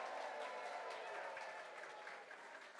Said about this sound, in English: would you please cheer for the 31st Annual Mona Art Auction as we share the magic of Northwest art?